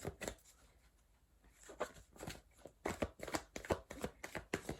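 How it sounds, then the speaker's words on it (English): Tarot cards being shuffled close up, with soft riffles and slides that build into rapid, flapping bursts of card edges, clear and with no talking. "can I get a supporting card for harmony?"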